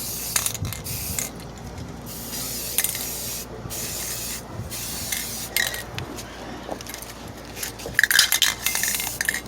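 Aerosol paint sprays onto brake calipers in a cluttered studio: short hissing bursts between pauses, mixed with clinks, rattles and small mechanical handling noises, with no speech.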